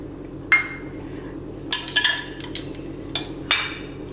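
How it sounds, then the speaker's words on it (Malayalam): Ice cubes dropped into a mixer jar holding jackfruit, a handful of sharp, bright clinks and knocks at irregular intervals, close and isolated against a quiet background. "അതിലേക്ക് കുറച്ച് ഐസ് ക്യൂബ് ഇട്ട് കൊടുത്തു."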